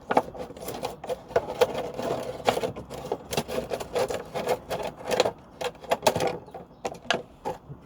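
Scissors cut around the handle of a plastic container, making close, repeated crunchy snips and scraping clicks in an uneven rhythm with short gaps.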